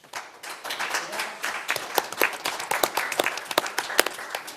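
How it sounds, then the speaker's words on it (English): A room full of people at a Westland city council meeting breaks into sustained applause, dense overlapping claps holding steady for several seconds at moderate loudness. "thank you everyone for giving the applause"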